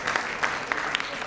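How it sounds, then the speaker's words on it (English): Brief burst of audience applause at a tech conference talk session, several loud claps standing out over a dense wash of hands, short and close. "Give me a round of applause."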